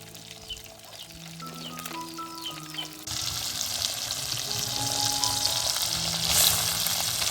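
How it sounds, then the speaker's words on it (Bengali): Tilapia pieces coated in salt, turmeric and chili powder fry in oil. Quiet background tones give way after a few seconds to a sudden loud, sustained sizzle that crackles steadily close by until the end. "আমি সামান্য একটু লবণ হলুদ আর মরিচের গুঁড়া দিয়ে মাছটাকে ভেজে নিচ্ছি"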